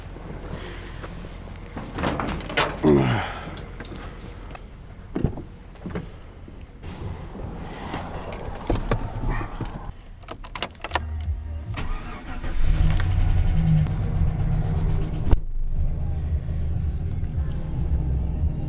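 A white truck's door shuts with a solid thump, then its engine cranks and catches, settling into a steady idle rumble close by, with scattered handling noises before it and little talk.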